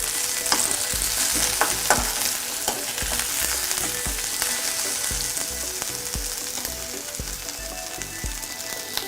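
Onions frying over a low flame in oil for a shrimp, egg and okra curry, a steady close crackling sizzle with repeated scraping stirs throughout, no voices.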